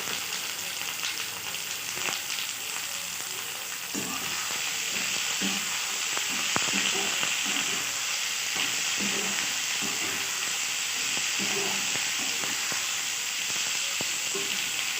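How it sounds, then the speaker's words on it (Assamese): Tomatoes with onion frying in a pan for a home-cooked meal, a steady close sizzle with occasional stirring scrapes and crackles running throughout, no talking. "এইখিনি মই ৰঙচুৱা হোৱালৈকে ভাজি থাকিম।"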